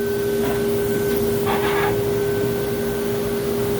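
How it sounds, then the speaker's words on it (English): A vacuum cleaner hums steadily beside a banner heat welder in a sign shop, a constant drone with a couple of brief hissing bursts over it. "Turn the vacuum off."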